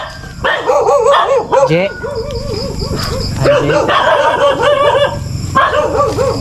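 A dog barks repeatedly near a creek at night, loud sharp yelps over a steady chorus of insects and frogs, with a person speaking briefly.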